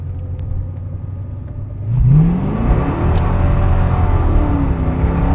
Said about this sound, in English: All right, now we're gonna go through the gears.